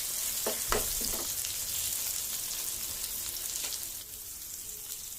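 Okra masala cooking over a slow flame with a light sprinkle of oil on top sizzles softly and evenly, with a few faint utensil taps near the start.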